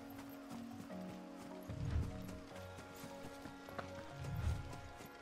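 A chocobo running while ridden in Final Fantasy XVI, its footfalls landing in a quick, steady clip-clop rhythm with a couple of heavier thuds over a game music bed.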